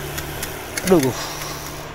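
Faint, rapid ticking from a bicycle freehub as the bike coasts downhill without pedaling, running steadily under a man's nearby speech.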